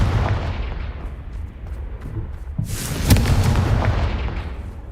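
A Confringo fire spell from Hogwarts Legacy bursts in a loud, booming explosion after a steady rumble of battle noise, with the blast peaking sharply about three seconds in and a crackling roar trailing after it.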